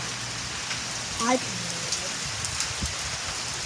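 A fading rain shower patters steadily on surfaces outdoors, with a child's brief speech and a few small knocks over the soft even hiss.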